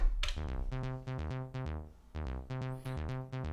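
Repeated dual VCO synth notes from an Elektron Analog Rytm drum machine, with sharp, bright attacks, pulse in a quick rhythmic pattern, rich buzzy harmonics over a deep low thump, loud and close with no voices.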